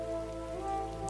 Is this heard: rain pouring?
yes